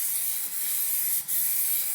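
Plasti-Dip rubber coating sprays from an aerosol can onto a car as a second coat, a close, loud, steady hiss with two short dips between passes.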